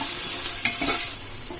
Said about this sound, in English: Now I'm adding the ginger garlic paste. Saute it until the raw smell goes off.